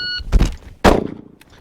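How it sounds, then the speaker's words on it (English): A pistol is fired with the support hand after a draw: a timer beep, then two sharp, loud reports close by, each followed by a short ringing decay. "Good solid shot,"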